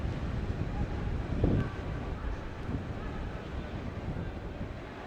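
Continuous blustery wind buffeting the microphone at a live soccer match, a rough low rumble that swells slightly midway and stays fairly constant throughout.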